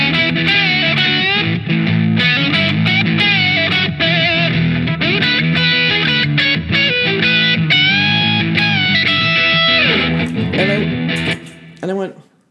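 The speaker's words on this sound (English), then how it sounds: "And so I loaded up my distortion and I did the loop," A distorted electric guitar plays a sustained, bending solo over a repeating loop, ending abruptly near the close.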